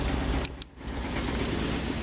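A wood gas powered engine fitted with an automixer runs at a steady idle, a continuous close rumble with a brief dip in level partway through.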